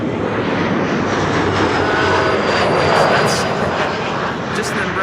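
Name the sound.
Embraer twin jet passing overhead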